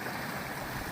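A mountain stream at the bottom of Waiau Pass rushes steadily, a broad close wash of flowing water with no breaks and no voices.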